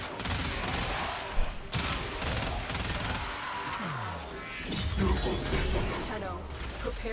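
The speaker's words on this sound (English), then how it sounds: "I'm just firing in bursts myself." Automatic weapon fire in Warframe crackles in rapid bursts over dense game effects and music, with a voice talking over the loud, busy mix.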